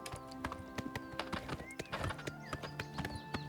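Horse hooves clip-clop in a steady, brisk rhythm while riding in Oblivion Remastered, close and distinct over a soft game soundscape, with a brief whinny.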